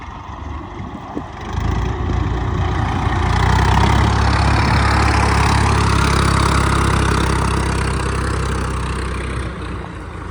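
A New Holland 3630 tractor engine labours as it climbs a sand dune in Rajasthan, a loud, steady low roar that swells and holds under load for the whole stretch, with no talking.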